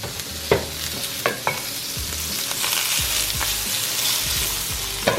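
Shrimp frying in a hot pan for paella, a loud continuous sizzle with scattered clinks and scrapes of stirring and flipping, close up and with no talking.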